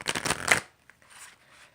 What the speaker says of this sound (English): I'll go ahead and show you how it shuffles